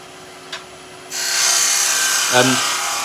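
A skew chisel's point cuts a chamfer on a spinning wooden Christmas tree blank on a lathe, a sudden close tearing hiss after a brief tap, carrying steadily with a short bump of contact near the end, no voices.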